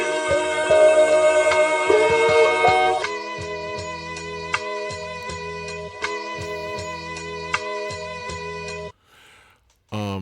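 Count sample looping in a hip-hop beat made in FL Studio, a bright melodic sample over punchy kick and snare hits in a steady pattern, ending with a brief drop to near silence and a restart, no talking.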